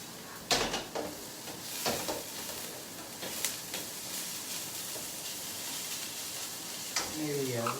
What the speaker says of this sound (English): getting a light saute